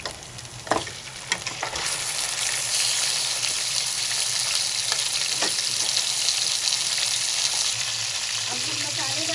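Mutton hits hot oil with ginger and garlic in a pot, setting off a loud, continuous sizzle and crackle, with a few sharp clacks of a utensil stirring close by.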